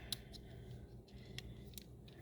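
Scissors snip up the center of paper for a Stampin' Up card-craft treat favor. A few quick, crisp, quiet cuts are spread out, with no voices.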